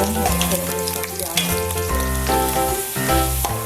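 Onions sizzle and fry steadily in hot oil in a pan as tempering for dal chawal, a loud, continuous crackle with no voices over it.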